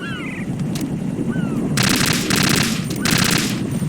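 AK rifle gunfire in Metal Gear Solid 2: Sons of Liberty, loud rapid automatic bursts in three sustained strings over a steady game background hum, close and dominant.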